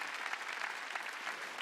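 A church congregation applauds in a gymnasium during a sermon, a steady, dense wash of many hands clapping together without a break.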